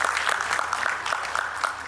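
An audience at an investment review event claps steadily, a dense patter of many hands at moderate loudness throughout, with no speech heard over it.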